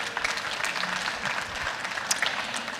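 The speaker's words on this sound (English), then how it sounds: "Can we give them a round of applause?" Crowd at an agricultural innovation stage event applauding, a brisk burst of clapping that stays loud and even for about three seconds with scattered sharper claps.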